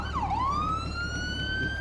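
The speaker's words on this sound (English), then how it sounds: "Listen to the siren. This sounds like British police." A British-style police siren on a police motorbike in the game GTA V wails loudly and continuously, dipping then rising into a steady high tone over a low engine rumble.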